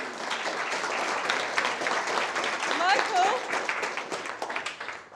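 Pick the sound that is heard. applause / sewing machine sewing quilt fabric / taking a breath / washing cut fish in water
applause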